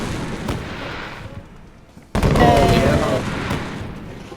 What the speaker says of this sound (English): As the race came to a close, the officiator set off fireworks which nearly made me poop my pants.